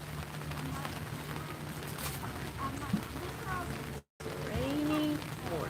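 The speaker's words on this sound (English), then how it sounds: "Rainy morning." Steady rain patters over an outdoor farmers market in Madison City on a wet morning, a constant hiss with scattered drips beneath vendors and customers chatting nearby.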